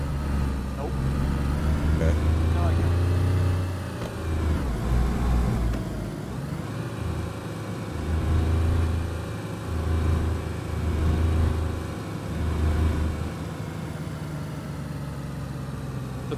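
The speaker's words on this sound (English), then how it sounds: "Can you hear the car from there?" A car engine idles and runs in the video game DayZ, a steady, close, mid-pitched drone that swells and dips slightly in loudness throughout.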